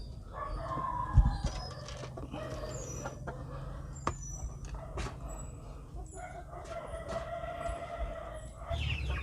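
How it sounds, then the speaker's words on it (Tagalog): Pullets (young hens) cluck and call softly while being fed wet feed, several birds murmuring at a moderate distance, with a low steady background hum. "andito naman tayo sa ating mga pullets"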